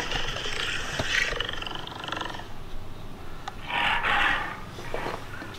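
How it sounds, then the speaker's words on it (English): A lion's roar rumbles as a couple of rough, breathy bursts with a steady low background, moderately loud and without any talking. "Sounds like a lion or something."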